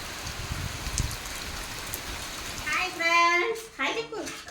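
Rain falls steadily in the morning as a soft, even hiss. Partway through, nearby voices and a child's chatter rise over it.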